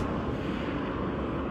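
Helicopter flying over a city at night, a steady broad rumbling drone with low throbbing and wind-like hiss, constant and fairly loud throughout without any talking.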